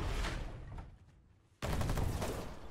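Dense bursts of machine gun fire rattle away in the war game Foxhole, dipping and briefly fading before the rapid shooting resumes loud and continuous.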